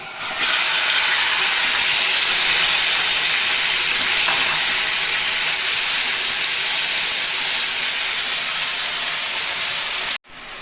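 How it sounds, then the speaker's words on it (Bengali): Chicken fries in white oil with a loud, steady, broad hiss that holds unbroken for about ten seconds before cutting off briefly near the end. "সাদা তেল দিয়ে চিকেনটা ভেজে নেব।"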